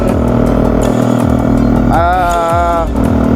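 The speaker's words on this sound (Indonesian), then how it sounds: "knalpot saya ini knalpot racing ya, knalpot racing, jadi suaranya cukup bising ya" A loud Suzuki Satria FU motorcycle with a ported engine, large carburetor and harsh, open racing exhaust idles and revs up close, its blaring roar steady throughout.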